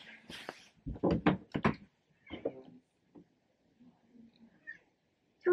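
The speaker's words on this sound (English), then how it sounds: "She's meowing at the door." A house cat meows repeatedly at a door, several distinct close calls in a quick run, then fainter softer sounds and a thump at the end, with no talking.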